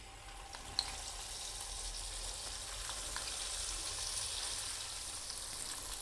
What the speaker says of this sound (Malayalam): ഇതിപ്പം നമ്മൾ എടുത്ത് വെച്ച ചിക്കൻ നന്നായിട്ടൊന്ന് ഡീപ്പ് ഫ്രൈ ചെയ്തെടുക്കണം